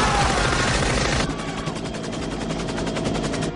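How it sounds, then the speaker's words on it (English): A rapid burst of gunfire, loud and dense at first, then thinning into a steadier rattle of repeated shots. "Gunshots outside the records office."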